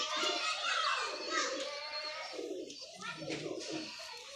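A female pigeon coos close by in soft repeated throaty bursts, with someone talking over the calls.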